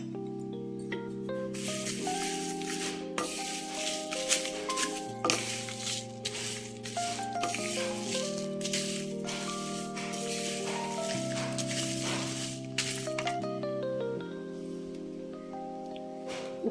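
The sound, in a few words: garlic frying in a pan for karam podi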